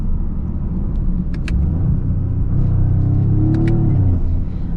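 A 2026 Toyota GR Corolla with a three-cylinder engine and automatic transmission accelerates, engine note rising in a low rumble heard from inside the cabin, with a few light clicks over it.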